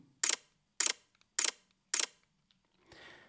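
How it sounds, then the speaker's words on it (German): Four sharp mechanical shutter bursts from a Sony A9 III camera, evenly spaced about half a second apart, crisp and close, followed by a faint rustle of handling noise. "muss eine Kamera, die fast 7000 Euro kostet, wirklich so klingen?"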